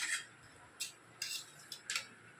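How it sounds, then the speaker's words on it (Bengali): A spoon scrapes poppy seed paste into a metal tiffin box, making a few short, bright metallic clinks and scrapes spaced apart against quiet, with no voices. "টিফিন কৌটোটার মধ্যে পোস্ত বাটাটা দিয়ে দিলাম"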